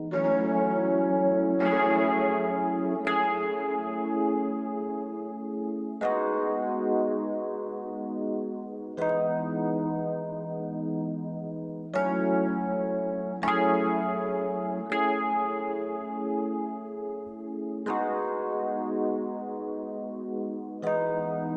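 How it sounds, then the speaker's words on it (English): A slow bell-like melody in a melodic beat rings out note by note, each tone struck and left to decay into a long, washy Valhalla reverb tail. "I like to add this Valhalla reverb"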